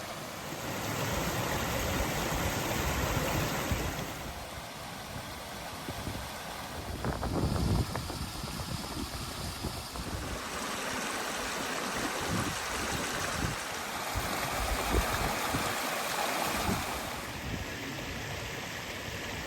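Waterfall and stream on open moorland in Bull Clough, a steady broadband rush of flowing water heard alone, with gusts of wind across the microphone now and then.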